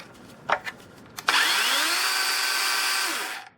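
Battery-powered DeWalt 40V chainsaw spinning up almost instantly into a steady high-pitched electric whine, held for about two seconds before cutting off, preceded by a few light knocks, close and loud.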